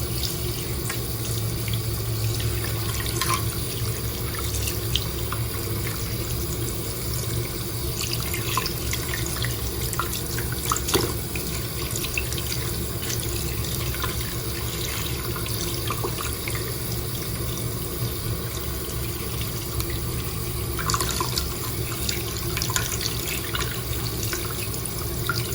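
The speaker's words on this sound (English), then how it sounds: "I also kind of just let the water flow in all kinds of directions of the crystal" Water flows steadily over a crystal, a continuous close trickle and splash like a running tap with occasional drips, alone and unbroken throughout.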